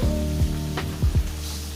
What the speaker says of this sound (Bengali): পাবদা মাছ ভাজার সময় অনেক ছিটে, কিন্তু তেল, প্রচুর তেল ছিটে।